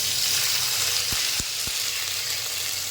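Onion, garlic, ginger and garam masala fry in ghee for an egg korma, giving a steady, close sizzling hiss with a few soft low knocks from the pan partway through.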